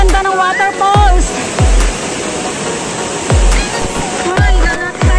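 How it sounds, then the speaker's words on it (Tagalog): Waterfall at Ngong Sham Stream, the Thousand Layer Waterfalls, giving a steady broadband rush of falling water, with voices talking over it and a few low thumps. "ang ganda ng waterfalls"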